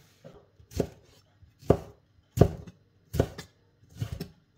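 Knife chopping through a tomato on a cutting board while seeding it, five firm evenly spaced cuts with a short pause between each, close and clear, no voices.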